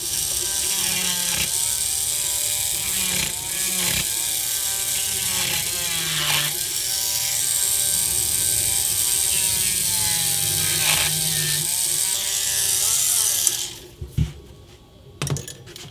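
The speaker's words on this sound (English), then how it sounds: "This is a soft material and this is a very low power rotary tool" A very low-power rotary tool cuts through soft material for a Wolverine prop claw, a steady whining buzz with chattering ratchet-like clicks as the piece jumps around, running close and loud for about thirteen seconds before stopping, then a few scattered clicks and taps.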